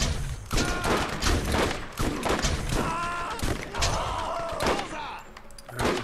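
Rapid gunfire and weapon blasts from the co-op shooter game Borderlands, dense bursts of shots and thuds running nearly throughout, with players talking over the action.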